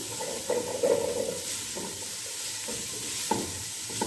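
Ingredients for a spicy chicken hot and sour soup are stirred in a pan, a steady hissing sizzle with soft scraping strokes and a few light knocks of the spoon, close by and without speech.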